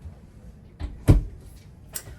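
A medicine cabinet door in a 2024 Jayco Jayflight 225 MLS camper bathroom swings open with a soft knock, then a firmer clunk and a light tap shortly after, close and with no talking.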